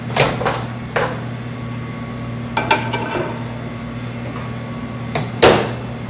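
Crackers for a Cajun snack are loaded into a microwave and it is started, with a few sharp clunks and clatters of the door and dish over a steady low hum, close by and with no talk.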